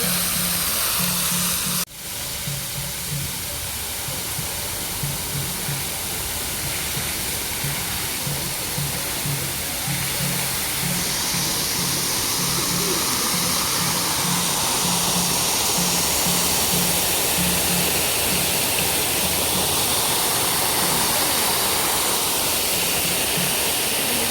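Water runs steadily at Shri Venugopala Krishna Temple, a constant loud rushing hiss that lasts throughout. After a brief knock near the start it continues unbroken.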